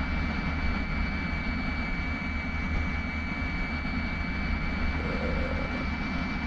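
Steady, loud roar of the Fiat-Aeritalia G-91 jet engine in Microsoft Flight Simulator 2020, a continuous broadband whine and rumble that holds level throughout with no pauses.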